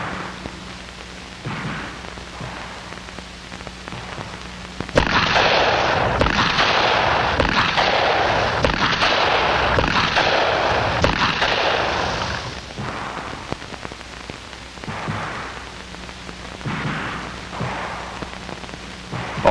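Rapid handgun shots fired at close range in FBI firearms training, with the weapon pointed like a finger instead of aimed through the sights. A loud dense volley runs for several seconds, then scattered single shots follow.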